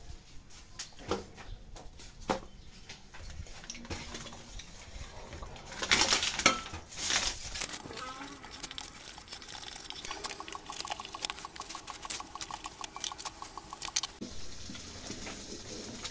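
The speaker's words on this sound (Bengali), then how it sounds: "হালুয়া ফুটতে শুরু করেছে।" Chana dal halwa cooking in ghee in a pan, bubbling with faint, scattered pops and spits, mixed with the clink and scrape of a stirring utensil against the pan.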